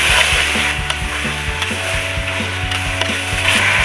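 Chicken pieces frying and being stirred in a pot for pulao, a steady close sizzle with repeated scraping knocks of a spoon against the pot every fraction of a second, no voices.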